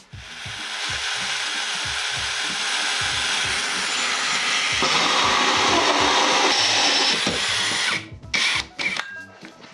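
A 65 mm hole saw cutting a hole for a spotlight, a loud continuous grinding drone for about eight seconds, close by, then stopping with a few short rattles and knocks.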